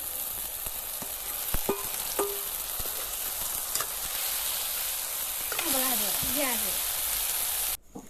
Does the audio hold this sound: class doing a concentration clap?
no